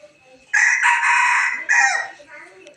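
A rooster crows twice in close succession, loud and near, the second call a little shorter, with quiet background before and after.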